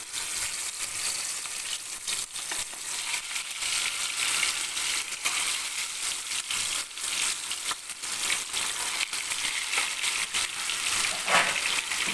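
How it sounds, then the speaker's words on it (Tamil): Masala sizzles steadily in hot oil for a chicken chilli gravy, a close, continuous crackling fry with small pops and no voices. "எண்ணெய் காஞ்சிடுச்சு இப்போ இந்த மசாலா போட்டு வச்சுருந்தோம் இல்லையா அதை வந்து பொறிச்சு எடுத்துக்கலாம்"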